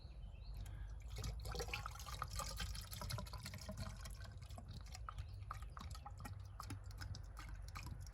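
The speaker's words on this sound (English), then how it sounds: "We're ready to fill it up. Okay, let's fill up this hose." Coolant pours into the radiator hose of a 1999–2001 Ford Ranger during a radiator replacement, a faint, steady trickle and splash with scattered drips running throughout, alone with no voices.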